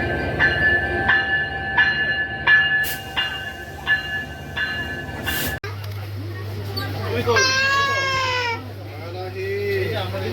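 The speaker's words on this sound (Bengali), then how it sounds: "আমাদের রূপসী Bangla express Benapole rail station ত্যাগ করলো ঢাকার উদ্দেশ্যে" The Ruposhi Bangla Express pulls out of Benapole railway station, a loud rhythmic clatter of wheels over rail joints giving way to a steady rumble, with people talking and a child crying nearby.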